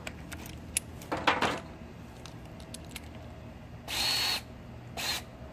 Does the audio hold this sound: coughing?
no